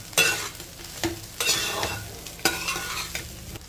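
Leftover cooked rice stir-fried in a pan for egg fried rice: a steady soft sizzle broken by a few sharp scrapes and tosses of the spatula, close up with no talking.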